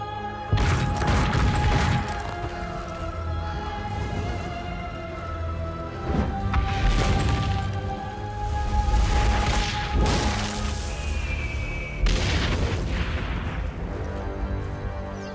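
A tower collapsing in Assassin's Creed Brotherhood: repeated heavy booming crashes and rumbling impacts, several big hits spaced a few seconds apart over a sustained game soundscape with tonal music, loud and close.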